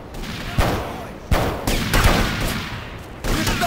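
Bursts of gunfire in GTA Liberty City Stories on PSP: loud, close volleys of shots at irregular intervals, with game voices mixed in.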